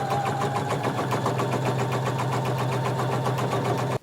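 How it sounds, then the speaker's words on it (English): Close up, a sewing machine stitches steadily around the casing of a pair of shorts, its rapid, even mechanical hum running without a break until it stops abruptly at the end. "We're going to sew all the way around close to the edge."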